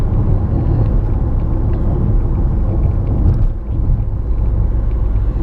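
Fiat Toro Freedom 1.8 16V with six-speed automatic cruising in sixth gear at about 80 km/h, a steady low engine and road rumble heard from inside the cabin, continuous and loud with a brief dip near the end.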